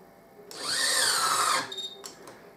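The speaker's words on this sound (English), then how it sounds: "we'll run the three screws down" A Kolver electric screwdriver drives screws down, one steady whirring run of about a second followed by short clicks and brief bursts as it stops.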